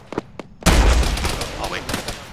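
Rifle fire on a beach in the military video game Arma: a few sharp shots at the start, then one loud booming report that rolls away with a long echoing tail.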